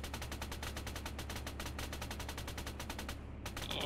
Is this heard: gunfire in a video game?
yes